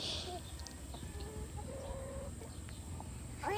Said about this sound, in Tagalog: so many chicken